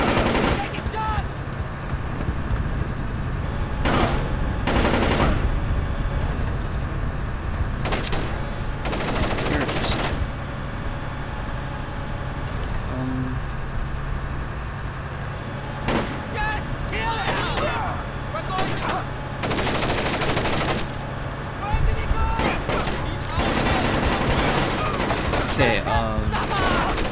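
Sustained gunfire from the stealth game Splinter Cell: Chaos Theory: bursts of shots and rapid machine-gun fire cutting in repeatedly over a steady low rumble, loud and close, with voices talking intermittently.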